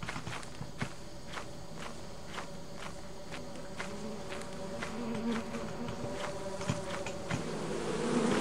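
A swarm of bees buzzes steadily in the video game Lethal Company. A quick series of footsteps runs over the droning hum, and the buzz grows a little louder toward the end.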